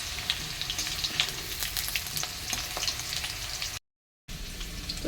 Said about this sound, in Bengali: এখানে আলুর দমে আলুগুলো ভাজছি